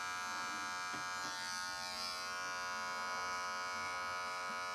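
Electric hair clippers buzz steadily and close while someone cuts their own hair, setting a half-inch guideline; a continuous high, even hum with slight shifts in tone as the blade moves through hair.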